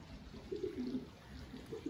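A young racing pigeon coos softly at close range, a few low murmuring notes rising over a steady background hum.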